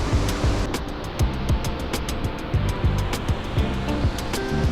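Water rushes loudly through the Leutaschklamm gorge in a close, constant roar, with rhythmic splashing bursts repeating throughout.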